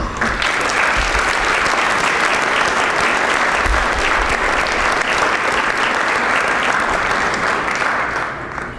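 Large audience applause for school staff at a high school national scholar recognition event, a loud, sustained, dense roar of clapping that holds steady for several seconds and eases slightly at the end.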